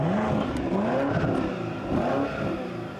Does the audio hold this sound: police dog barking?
no